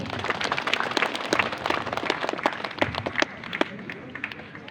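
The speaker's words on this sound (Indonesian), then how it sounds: "Tepuk tangan dulu buat Bapak ini." An audience at a school job fair at SMKN 1 Pagaran claps for a presenter, with dense, steady applause from many hands nearby that tapers off slightly toward the end.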